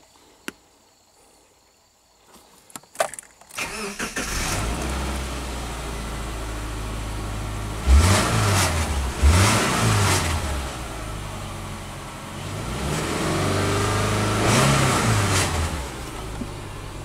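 A Subaru engine in limp-home mode with a P2138 fault code starts after a few clicks and settles into a steady idle, then rises in several short revs and a longer sustained rev, heard close with no talking.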